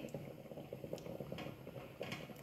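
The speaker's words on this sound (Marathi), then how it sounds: "मोहरी छान तडतडली आहे" Mustard seeds popping in hot oil for a potato dish, a soft, busy crackle with quick irregular pops and small spitting bursts, faint and close, with no talking.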